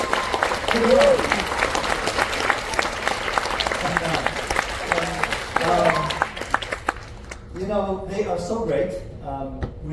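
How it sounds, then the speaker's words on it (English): Audience applause rises for the ship's orchestra at a headliner show aboard the cruise ship Quantum of the Seas, a broad steady clapping wash under talk and music-like tones that thins out toward the end. "Please give them a round of applause."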